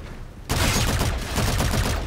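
Sudden burst of rapid gunfire in the Infinite Warfare campaign at Port Armor, breaking out of near silence into a dense, loud, sustained volley of overlapping shots.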